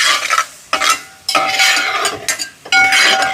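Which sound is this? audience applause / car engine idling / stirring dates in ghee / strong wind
stirring dates in ghee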